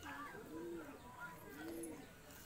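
Andhra pigeons coo softly in a loft, a few rolling low calls repeating over a quiet background hiss, faint and close, with no voices.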